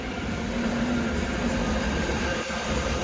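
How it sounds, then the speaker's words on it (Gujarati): A train rolls along a railway track in a steady, loud, continuous rumble with faint wheel hiss and rail noise throughout, no voices over it. "આ રેલવે ટ્રેક છે તો ટાઈમે ટાઈમ રેલગાડી આવી ગઈ છે"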